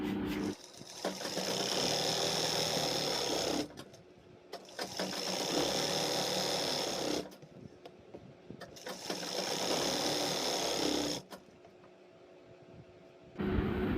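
A sewing machine stitches a loose palazzo, attaching a waistband strip, in three long, steady bursts of motor whir and needle clatter, each separated by a brief pause, close and loud with no talk.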